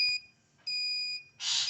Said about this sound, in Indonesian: karena buzzer sudah berbunyi dengan cepat